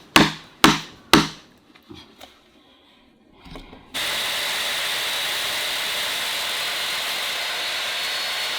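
Three loud, sharp hammer blows ring out in quick succession as a sculptor works on a wooden sculpture, followed by a few softer taps, then a steady loud machine-like roar takes over.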